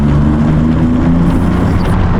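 TVR Tuscan sports car engine revving, its tone likened to an old V12 Le Mans race car, a steady loud low drone with droning harmonics held throughout, no talk.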